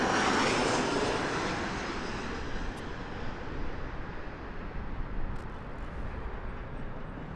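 Janet airline jet aircraft at Las Vegas Harry Reid International Airport, a steady broadband engine roar that is loudest at the start and slowly fades as it passes at a distance.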